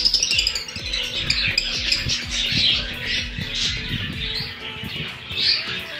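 African lovebirds in an aviary chirping and squawking continuously, a busy overlapping chatter of high calls with scattered rustling and tapping, moderately close.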